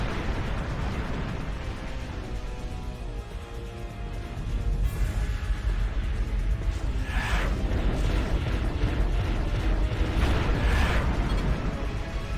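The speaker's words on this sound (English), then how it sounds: "Got caught in the explosion there." Explosions in the space combat video game Wing Commander Saga, a continuous loud rumbling roar that swells partway through, with a couple of crackling bursts on top.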